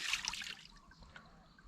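Water trickles and flows down near a walking tractor's water pump, a close, continuous splashy dribble that lasts under two seconds.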